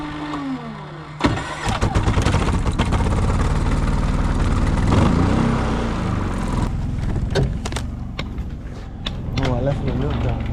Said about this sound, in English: I have to use a generator out here